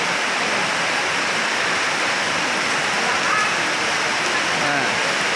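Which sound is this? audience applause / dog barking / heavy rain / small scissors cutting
heavy rain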